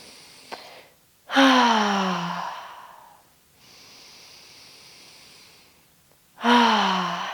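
Deep cleansing breaths during a gentle yoga session, each a loud audible exhale pushed out through the mouth, two long sighing breaths with a softer airy breath between them, close and alone.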